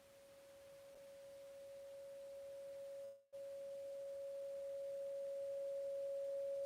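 Synthesizer note with the attack set to 127, a single pure sustained tone that swells slowly in volume, breaks off for a brief moment partway through, then continues to grow louder alone.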